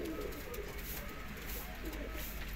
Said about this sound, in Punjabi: ਐ ਇੰਡੀਅਨ ਕਬੂਤਰ ਆ